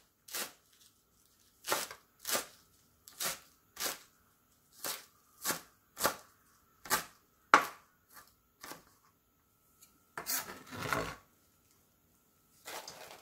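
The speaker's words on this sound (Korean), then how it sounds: "마늘을 총총 썰어주세요." A knife chops garlic finely on a cutting board in a home kitchen, with about a dozen crisp, evenly spaced close chops, a short pause, then a brief scraping burst and one last chop.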